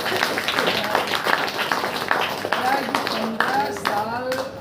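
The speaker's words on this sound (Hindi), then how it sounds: "ताली" Congregation at a Saturday church power meeting clapping steadily, a dense stream of handclaps mixed with voices and singing tones throughout.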